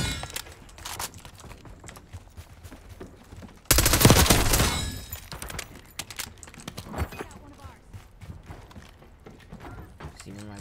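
A rapid burst of automatic gunfire erupts in a Black Ops 6 match, loud and dense for about a second. Scattered shots, clicks and mechanical game effects follow, with voices speaking over the action.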